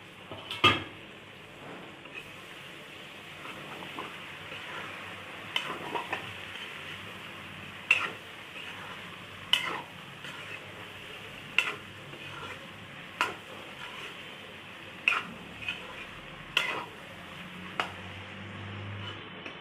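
Chicken and spices sizzle steadily in a pan while a utensil scrapes and clinks against it at regular intervals, no voices.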